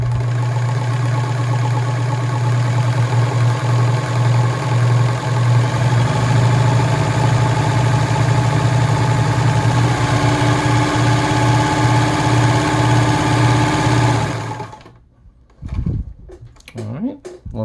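A Gritzner VZ (Kenmore 117.740) sewing machine runs a stitch with a loud, steady motor hum and rapid needle rhythm. It cuts off about two seconds before the end, followed by a few soft knocks.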